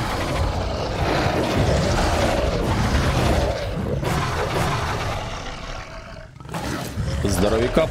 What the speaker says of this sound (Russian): По-моему, только волки там остались.